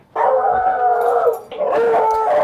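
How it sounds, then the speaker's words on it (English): A beagle howls close and loud in long, wavering, drawn-out cries, the first howl sustained for over a second before a brief dip, then a second, rising howl carrying on to the end. "Beagles are notorious for howling a lot."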